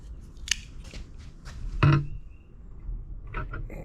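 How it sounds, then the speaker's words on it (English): A razor knife slicing through a new radiator hose on a V8-swapped Jeep XJ, heard as a few short, close scraping cuts and a brief louder rasp in an otherwise quiet garage. "for that I'm just going to use a razor knife"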